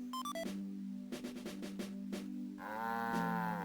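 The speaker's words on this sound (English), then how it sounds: "So this is a cow." A cow moos in the video game Mother 3: a synthesized, drawn-out lowing call near the end, heard over the game's chiming background music and bleeps.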